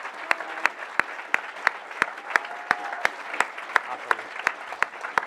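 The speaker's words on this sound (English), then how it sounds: "I'm going to take a picture of you clapping" Steady lecture-audience applause, many hands clapping together with sharp, regular claps standing out over the crowd's continuous patter.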